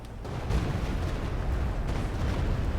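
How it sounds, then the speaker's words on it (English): Rockets from a Stuka in a Company of Heroes 2 match slam down in a dense, rolling barrage of explosions. The loud booms merge into one continuous rumble lasting several seconds. "Stuka's unleashes its 6 rockets"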